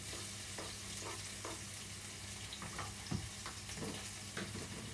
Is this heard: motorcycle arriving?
no